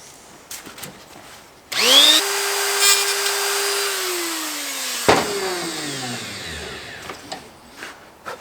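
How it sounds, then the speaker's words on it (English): A rotary burr grinds on a chainsaw with a high whine that rises, holds steady and then falls away, loud and close, with some clatter before and after. "Rotary burr it is, it looks like."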